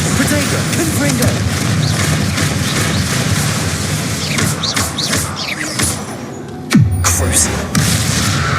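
Confringo spell explosions in Hogwarts Legacy go off over constant game noise and voices, with a sharp, loud boom near the end.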